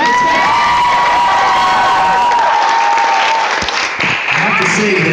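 An audience claps and cheers after a strength team feat of breaking objects, loud sustained applause with whoops and voices rising over it, tapering slightly toward the end.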